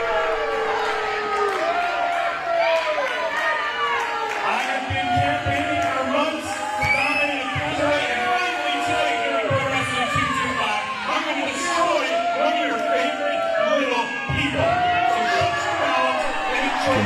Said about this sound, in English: Barely hear Ryan over this rambunctious crowd